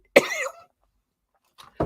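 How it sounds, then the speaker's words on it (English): A person with a sinus complaint coughs once loudly and close, a short harsh burst, followed by silence and the start of another cough at the end. "I'm going to start blooming coughing now,"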